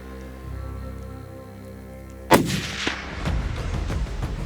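A single hunting rifle shot fired at an animal about 140 meters away cracks sharply mid-clip and rolls into a long echoing boom over low background rumble.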